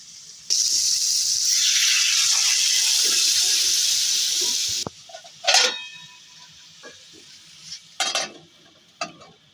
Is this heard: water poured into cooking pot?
yes